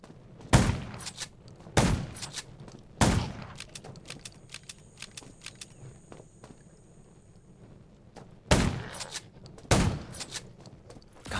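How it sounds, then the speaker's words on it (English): Gunfire in the survival shooter Undawn: five loud, sharp shots ring out in two clusters, three spaced about a second apart, then a pause before two more, with faint clicks and movement between them. "Gunshots will attract."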